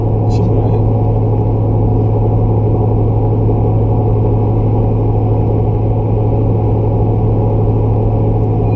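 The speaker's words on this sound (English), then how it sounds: "We got a big American V8 pushing somewhere in the neighborhood of, what, 350 to 400 horses?" A big American V8 car engine of roughly 350 to 400 horsepower idles steadily nearby, a loud, constant low rumble throughout with a faint voice in the background.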